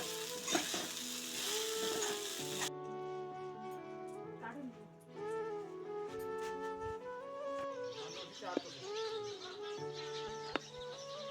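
Peanuts frying in a pan in a village kitchen, a soft sizzle heard beneath prominent background music with occasional clinks and stirring.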